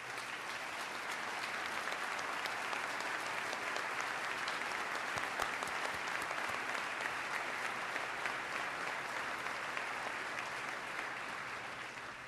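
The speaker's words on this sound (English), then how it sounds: "I'd ask him to stand so we can give him a round of applause." Sustained audience applause fills a large hall at a New York State of the State address, steady dense clapping throughout with no talk over it.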